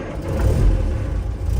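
A 1963 Morris Mini Minor 850 Mark 1 with a late-1950s engine and floor starter, low rumbling engine sound swelling briefly then holding steady, close and fairly loud, no talk.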